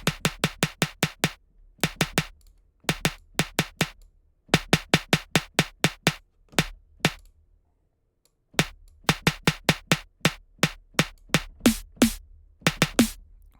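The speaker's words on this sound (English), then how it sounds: "That sounds like this snare." Sharp, punchy drum hits in quick bursts of repeated strikes, separated by short silences, played dry and loud with no voices.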